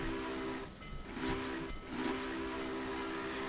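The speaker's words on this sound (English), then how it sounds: "Blowing the whistle, let the people know I'm coming in." Union Pacific 844 steam locomotive whistle in Train Simulator 2018, sounding as a loud sustained chord in two long blasts separated by a brief dip, over a steady hiss of steam, with no talk.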